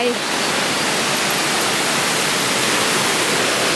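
A natural waterfall at Kaeng Yui near Vang Vieng, Laos, roars as a loud, steady broadband rush of falling water that fills the whole clip without a break.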